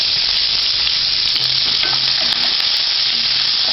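Onion, green chilli and curry leaves frying in hot oil for an eggplant gostu: a loud, continuous close sizzle with crackling hiss, occasional faint stirring knocks underneath, no voices.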